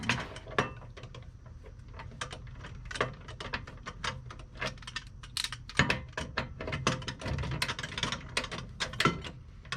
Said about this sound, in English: See if I can get this torque wrench up in here.